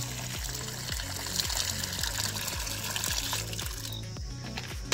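Water pours steadily into a nearly full bucket, giving a continuous rushing gurgle with a regular rippling pulse, close and with no talking.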